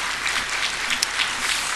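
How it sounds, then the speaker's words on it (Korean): A church congregation applauds steadily in encouragement at a New Year's first Sunday service, a dense, even wash of many clapping hands with no talk. "격려의 박수를 보내겠습니다"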